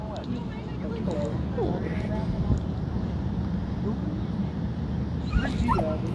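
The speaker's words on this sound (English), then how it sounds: "Dog talk." A rescue dog whimpers and gives short, high yips in scattered bursts, fairly close, over a steady background rumble while people talk nearby.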